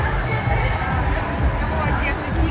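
A large crowd at a Paris street demonstration on boulevard Voltaire: a dense, steady babble of many voices with a low rumbling undertone and faint distant shouts.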